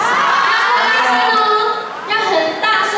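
A concert audience in Kaohsiung shouts loudly together to call the singer out onto the stage, a dense, sustained roar of many voices that dips briefly near the end before swelling again.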